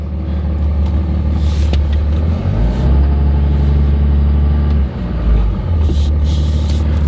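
A completely stock, never-tuned 5.9-liter Cummins diesel truck engine rumbles loud and close throughout, its low drone shifting in pitch as it revs and settles.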